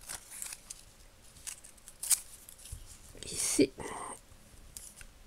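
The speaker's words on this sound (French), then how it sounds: "On va couper." Scissors snip a strip of paper for a scrapbook embellishment, giving a few quick, crisp cuts near the mic. A voice talks quietly in French in between.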